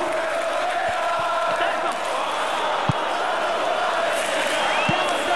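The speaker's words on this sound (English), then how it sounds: "The crowd here are really enjoying it." Stadium crowd at a Champions League football match between Arsenal and its opponent, a continuous loud roar and chant filling the background, with a few sharp thuds and a commentator speaking over it.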